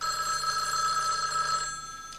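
A telephone bell rings in a steady metallic trill, moderately loud and alone, then stops near the end.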